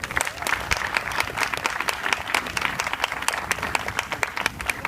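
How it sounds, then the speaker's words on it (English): A crowd applauding at an event honoring Alderman Sam Sanchez, dense clapping with sharp individual claps standing out, sustained and even throughout. "he deserves a round of applause."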